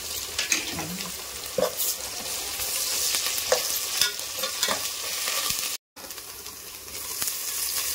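Ginger garlic paste fries with onions in a home pan, giving a continuous loud sizzle with scattered stirring scrapes and spoon clinks throughout, cut briefly by a short silence near the end.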